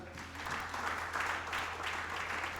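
Church congregation applauding during a French-language sermon, a soft, steady patter of clapping heard from some distance, without a break, for a few seconds.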